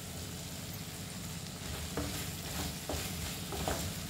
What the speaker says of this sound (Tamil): பாருங்க இது நல்லா கொஞ்சம் வதங்கணும்.